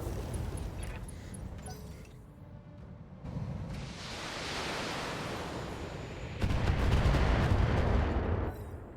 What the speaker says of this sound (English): it was just scaffolding that came down